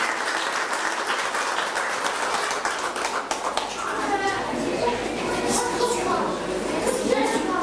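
A crowd at a diploma ceremony for students who passed the DELF exam claps for a graduate, the applause steady and fairly close, with voices and children's chatter mixed in toward the end.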